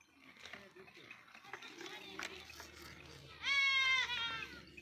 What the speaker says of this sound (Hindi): ये उनकी बकरी है इनके पास